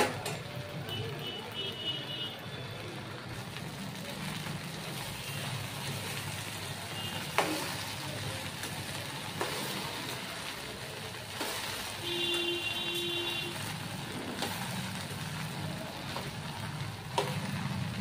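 Okra frying in a pan while being stirred continuously, a low steady sizzle under occasional scraping knocks of the spoon, heard close but fairly quiet.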